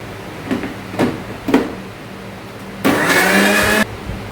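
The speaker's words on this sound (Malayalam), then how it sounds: "തീയലിന് വറുത്ത് വെച്ചേക്കുമല്ല ഇനി ഇത് അരച്ചിടട്ടെ" A mixer grinder runs on roasted spices for theeyal: a few light clicks and knocks come first, then one loud, close whirring burst lasting about a second before it stops.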